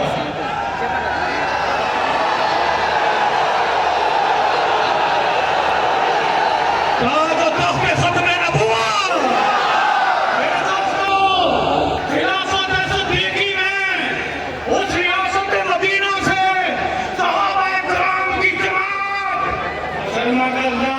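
A large crowd at a religious conference at Minar-e-Pakistan in Lahore roars chanted slogans in loud massed waves, rising into rhythmic shouted bursts over a continuous din of voices.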